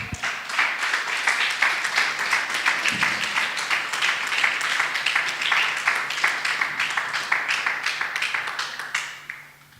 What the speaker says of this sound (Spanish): ¿Cuánto le damos un aplauso al Padre?